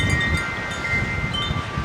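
Strong wind buffets the microphone outdoors, making a steady, loud low roar with no let-up across the short stretch.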